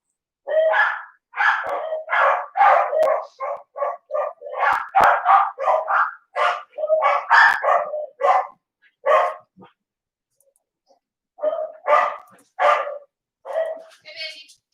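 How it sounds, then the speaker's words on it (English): Dogs bark repeatedly in a rapid, close series of sharp barks and yips, with a brief lull before a few more bursts near the end. "they actually do have a reason to bark this time"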